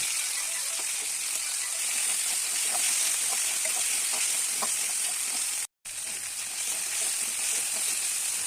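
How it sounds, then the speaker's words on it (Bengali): Marinated chicken fries on high heat in a pan, giving a steady, dense sizzle and hiss that runs throughout with a brief drop-out, and no voices. "আমি হাই হিটে চিকেনগুলোকে ভেজে নিচ্ছি।"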